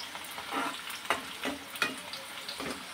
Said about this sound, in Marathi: एक 2 मिनटं कांदा परतायला लागतात।